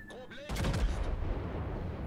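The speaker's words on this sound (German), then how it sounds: "Jetzt gehen hier die Schüsse rein in die Rauchwolke, aber trifft halt nicht" A heavy burst of warship gunfire in World of Warships, a sudden loud booming salvo after a quieter start, followed by a rumbling, crackling tail that lingers to the end.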